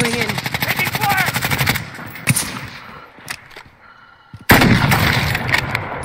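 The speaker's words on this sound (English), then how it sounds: "Taking fire!" Enemy fire in the Warzone video game: a rapid burst of automatic fire, a few sharp single shots, a near-quiet lull, then a loud renewed burst. The gunfire is close and heavy.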